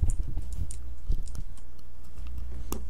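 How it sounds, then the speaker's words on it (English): Someone types on a computer keyboard close up, with quick irregular key clicks and a few louder keystrokes over a low steady hum. "You're typing?"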